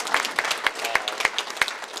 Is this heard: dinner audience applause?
yes